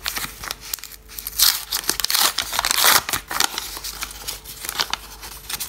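Crisp crinkling of a small plastic surprise packet being unwrapped, irregular bursts of rustling and crackling close up, no voices.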